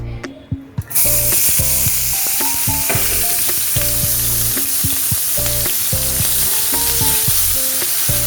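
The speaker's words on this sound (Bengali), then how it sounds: "ভালো করে আদাটা ভাজবো, ততক্ষণ পর্যন্ত ভাজবো যতক্ষণ আদার কাঁচা গন্ধ আমার চলে যাবে।" Steady, loud sizzling of grated ginger and green chili frying in hot oil, with repeated clinks and scrapes of a spoon stirring the pan throughout.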